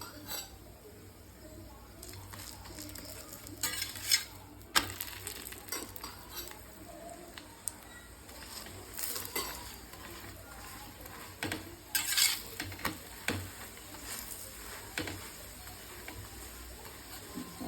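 Lachha paratha frying in oil on a pan, a steady low sizzle throughout with occasional sharper clinks and scrapes of a utensil against the pan, close and moderately loud, no voices.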